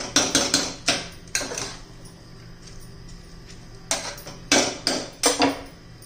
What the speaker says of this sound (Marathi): आता तांदूळ घातले पण 2-3 मिनिटं चांगले परतून घ्यायचे आपल्याला.